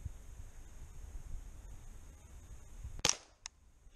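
A single sharp gunshot from a rifle fired while hunting peafowl, a quiet outdoor lull broken by one loud crack, followed a moment later by a fainter second snap.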